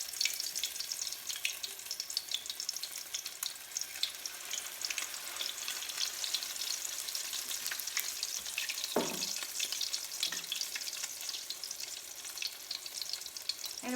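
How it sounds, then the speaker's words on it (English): Spinach patties frying in a pan of hot oil, a steady close crackling sizzle throughout with a soft scrape or clink partway through. "we're just gonna fry them for a couple of minutes on each side"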